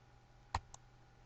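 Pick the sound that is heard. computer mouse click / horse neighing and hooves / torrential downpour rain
computer mouse click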